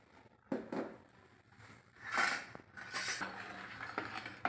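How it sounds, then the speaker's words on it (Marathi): A spoon clinks and scrapes inside glasses while stirring powdered sugar for lemon sharbat, a few light metallic taps and swirling rattles, close and clear with no talking. "चला तर मग आपण हे सर्व छान मिक्स करून घेऊ"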